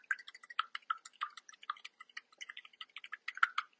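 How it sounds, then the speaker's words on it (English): A mini whisk beating a single egg, with quick, light, close clicks and taps against the bowl in a steady, slightly uneven rhythm, faint and without talk. "I like using my little whisk to whisk this up"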